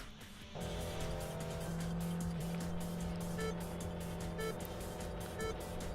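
A G35 racing in the Import Tuner Challenge video game, with a steady, loud engine drone that starts abruptly and holds. A sustained tone and faint tire noise sit under it, and no one talks.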